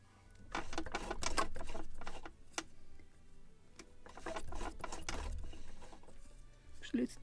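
An overheated sewing machine stitching sails slowly, its needle running in uneven bursts with pauses between them, a rhythmic mechanical clatter close by.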